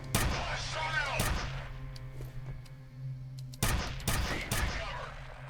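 Loud gunshots from a weapon in the video game F.E.A.R., fired in short separate bursts, one pair near the start and a cluster of three later, with quieter game ambience between them.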